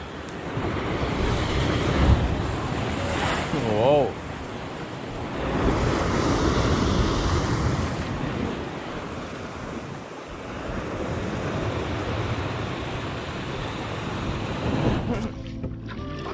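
Choppy sea water sloshes and surges with heavy wind buffeting the microphone; someone exclaims briefly over the constant rough rush.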